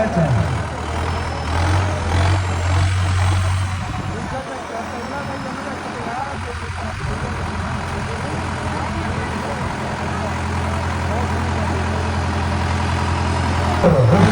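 A Sonalika 5911 tractor engine runs loud and close, a heavy steady drone that dips briefly partway through before building again, with people talking over it.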